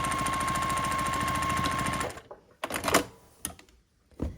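A sewing machine stitches binding onto quilted patchwork placemats in a fast, steady, close run that stops after about two seconds, followed by a few soft handling clicks and thumps.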